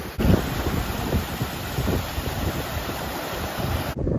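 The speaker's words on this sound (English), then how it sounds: "Absolutely stunning waterfalls." Waterfalls in the Lake District fells near Sprinkling Tarn produce a constant broadband rush of falling water, loud and close, with buffeting wind on the microphone and no voices.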